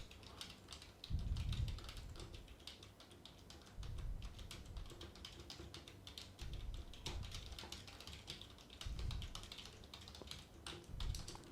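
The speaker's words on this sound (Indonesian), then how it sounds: "saya cobain ngomong sambil ketik-ketik keyboardnya ya" Typing on a computer keyboard picked up by a Fifine K658 microphone during a test: a rapid, steady stream of soft, close keystroke clicks with occasional heavier thumps, no voice.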